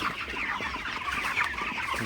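Broiler chickens in a farm shed at night cluck and murmur continuously as a close flock, a busy overlapping chatter with no voices.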